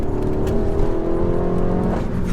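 A 300 bhp stage 2 Peugeot 308 GTi accelerating hard, its engine note rising in a loud, sustained rev heard from inside the car.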